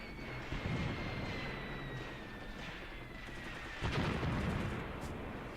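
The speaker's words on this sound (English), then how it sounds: "Okay, mortars are hitting where I want them to" Distant mortar shells land in the war game Graviteam Tactics: two faint, low booms rise out of a constant rumble of battlefield background, with no talking.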